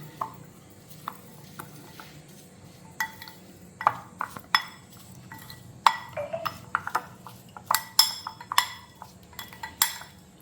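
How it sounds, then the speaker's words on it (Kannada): Spoon stirring a quick pickle with sugar and oil in a bowl, giving a run of light clinks and scrapes against the dish, sparse at first and then quicker and busier toward the end, close up, with no talking. "ಇದು ಹೀಗೆ ಮಿಕ್ಸ್ ಮಾಡೋದು"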